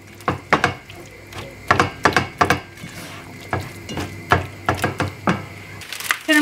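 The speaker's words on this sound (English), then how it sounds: "Give that a good stir." A spoon stirs balsamic vinegar through food in a pan, giving a run of close, sharp metallic scrapes and clinks in an irregular rhythm with brief pauses, no talk.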